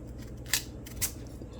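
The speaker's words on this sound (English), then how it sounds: "or you can just cut the pumpkin as it is" A knife cutting through a pumpkin for cow foot soup, two crisp crunching cuts about half a second apart over low, steady kitchen background, close up and with no voices.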